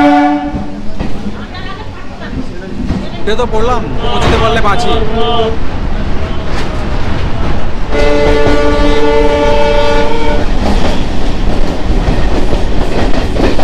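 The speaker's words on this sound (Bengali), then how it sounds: "50 মিনিট লেটে ঢুকছে ট্রেনটা আজকে।" A train pulls into Panskura Junction station with a loud rumble of wheels and carriages, and a long horn blares twice. Someone speaks briefly over the noise.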